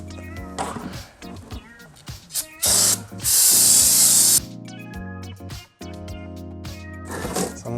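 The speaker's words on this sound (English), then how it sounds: "I like to hit these with some brake parts cleaner and just clean everything in here good." Brake parts cleaner sprayed onto the valve cover area of a Lexus GX470 with the Toyota/Lexus 4.7L V8: two loud hissing aerosol bursts, the second longer, set against a droning tonal background.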